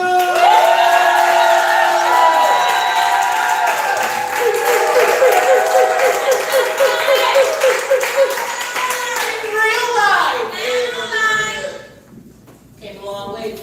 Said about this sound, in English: Clap it up for the first indie poet.